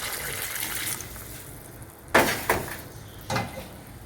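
Water poured into a pan of cauliflower chutney cooking on a low flame, heard as a few short splashing gushes after a quiet stretch, close and moderately loud with no talking.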